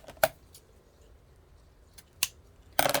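Scissors snip through ribbon while a Victorian-style farmhouse butterfly heart wreath is crafted, a few short, crisp cuts close by with quiet gaps between them.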